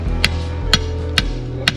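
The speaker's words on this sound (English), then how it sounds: "I've hit a rock here." A digging tool strikes a rock buried in the ground, four sharp, evenly spaced metallic knocks about half a second apart, close and loud over a steady low hum.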